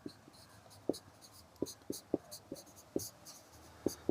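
Pen writing on paper during a Class 10 math lesson: quick, close scratchy strokes and taps in irregular bursts, with faint whispery breath underneath.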